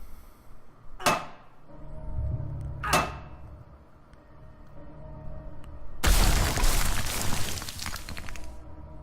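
In Silent Hill 2, James breaks through a wall: two sharp heavy blows land about two seconds apart, then a loud crumbling crash of debris follows, with no talk over it.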